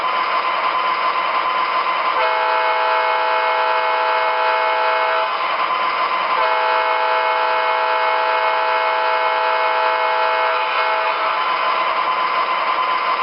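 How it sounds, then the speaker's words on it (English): An MTH RailKing model of a Canadian National ES44AC diesel locomotive sounds its horn in two long, loud, steady blasts with a short break between them, over a constant electronic hum and no talk. "Now let's check out the horn on this locomotive."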